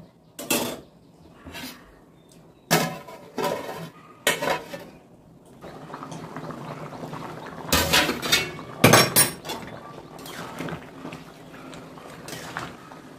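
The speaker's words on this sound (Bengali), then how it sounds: "আমি এবার ঢাকা চাপা দিয়ে দেব।" A lid is set onto a cooking pot of home-style jackfruit chicken curry, giving several sharp metallic clanks and clinks in short bursts with quieter rattling between them, close by and with no voices.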